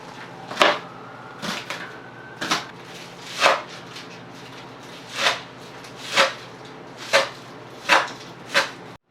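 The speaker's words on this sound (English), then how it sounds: "So let's chop green onions," Green onions are chopped with a knife on a board in sharp, distinct cuts, about ten evenly spaced knocks over several seconds, close and clear against a quiet kitchen hum.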